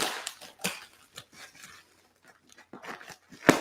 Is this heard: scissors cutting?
yes